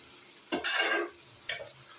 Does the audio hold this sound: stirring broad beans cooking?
yes